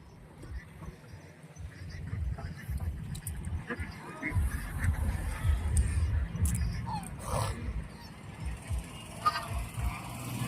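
Ducks for sale quack now and then amid a noisy outdoor poultry market in Beed, with a crowd chattering throughout and occasional honks in the background.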